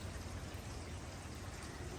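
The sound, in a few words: summer rain falling in front of a suburban home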